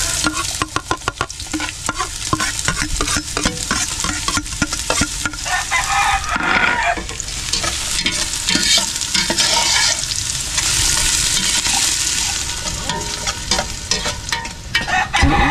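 Garlic and onion sauté in a stainless pan, sizzling loudly and steadily close up while a utensil stirs and scrapes in quick repeated strokes.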